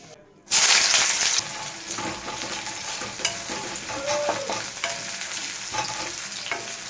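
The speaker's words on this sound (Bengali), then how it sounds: "তেল গরম হয়ে গেছে একটু পেঁয়াজ দিয়ে দেবো" Sliced onion hits hot oil in a pan with a sudden loud sizzle, then keeps frying in a steady crackling hiss while a spoon stirs and scrapes now and then, close by.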